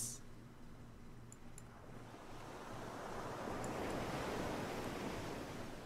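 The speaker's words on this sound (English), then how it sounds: "Listen to the sound of the waves." Ocean waves in the video game All by myselves wash in as a steady broad roar of surf, swelling slightly louder toward the end, with wind hiss and a faint low hum beneath.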